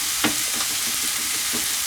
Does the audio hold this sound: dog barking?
no